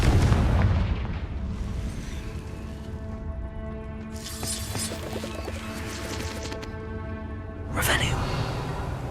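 Confringo fire spell explosions go off in Hogwarts Legacy, with bursts and crackling blasts, loudest at the start and again near the end, mixed with game sound effects and a person talking.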